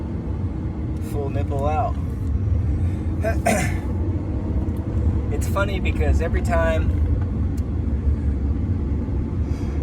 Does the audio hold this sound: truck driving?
yes